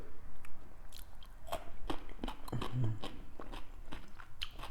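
Raw radish is bitten and chewed close to the mic, with a string of sharp crunches and wet chewing snaps that come in irregular bursts.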